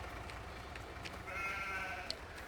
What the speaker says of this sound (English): So we should have our 20 sheep